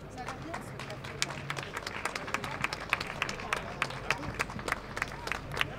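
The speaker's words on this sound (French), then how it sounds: "Merci, on les applaudit." Audience clapping at a citizens' climate gathering in Brussels, a dense patter of many hands over crowd murmur, steady and fairly close for several seconds.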